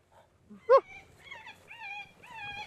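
Dog whining and yelping in alert at a nearby coyote outdoors, a sharp yip followed by rising, wavering whimpers and howl-like cries, close and fairly loud.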